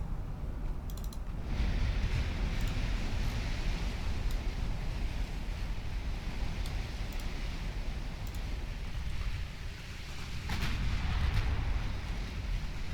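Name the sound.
naval 6-inch gun fire in Ultimate Admiral Dreadnoughts video game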